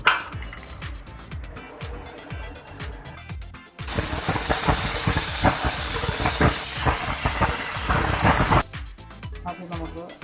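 A pressure cooker of country chicken curry vents steam in a loud, steady hiss lasting about five seconds, framed by quieter kitchen sounds.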